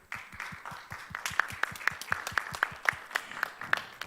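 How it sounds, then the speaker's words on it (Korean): Audience applause at the opening ceremony of the BIOPLUS INTERPHEX KOREA 2020 event, for a company being congratulated: steady, fairly distant clapping from a crowd with regular, rhythmic sharp claps standing out. "여러분 진 메디신에 다시 한번 힘찬 박수로 축하해 주십시오."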